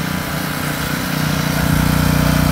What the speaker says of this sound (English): Generator.